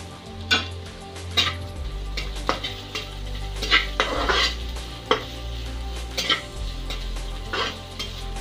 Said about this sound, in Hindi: इसमें कटा हुआ गाजर और बीट डाल रहे हैं